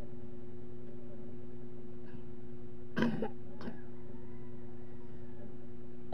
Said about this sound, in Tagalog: Inuubo naman yung nag-vlog eh